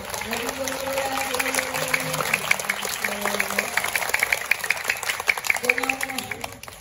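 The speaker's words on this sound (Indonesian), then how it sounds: "Boleh tepuk tangan?" Children at an elementary school orientation clap together in steady, continuous applause that fills the room, with tonal voices and hall noise mixed under the clapping.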